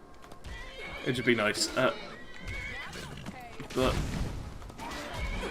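A horse in Skyrim whinnies loudly and repeatedly amid hoof clatter and combat noise, with someone talking over it.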